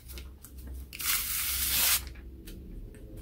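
Protective film peeled off a powder-coated PEI sheet, a bright ripping, tearing hiss that swells over about a second, with softer rustling before and after.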